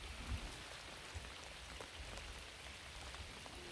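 Rain falling under an overcast sky in the northwoods, a steady, even patter of drops close by with no speech.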